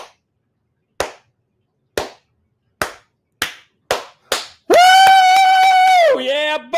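Slow clapping: seven sharp, isolated hand claps, close and loud, spaced about a second apart and gradually speeding up, followed by a loud sustained whooping shout.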